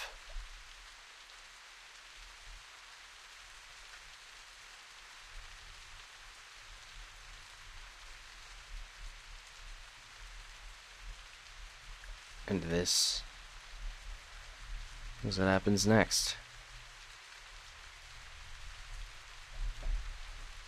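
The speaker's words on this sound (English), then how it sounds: "It's rainy, it's dark." Steady rain falls in the video game The Path, a soft continuous hiss through the whole stretch, while someone talks in short bursts over it.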